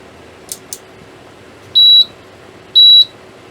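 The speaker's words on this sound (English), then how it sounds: "And we've got 2 beeps now." Two steady electronic beeps from an HP 34401A multimeter powering up, each about a quarter-second long and clearly separated, preceded by a couple of faint clicks in an otherwise quiet room.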